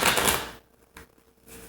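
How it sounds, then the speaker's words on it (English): Tarot card deck shuffled by hand, a dense burst of riffling card clicks at close range, then two brief softer flicks and a faint final rustle. "All right, that was a fairly decent shuffle."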